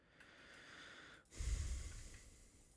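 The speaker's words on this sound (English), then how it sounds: "Sorry for breathing into the mic." Close breathing into a microphone through a single working nostril: a soft hiss, then a louder, sharp snort-like exhale with a low rumble, alone and with no talk.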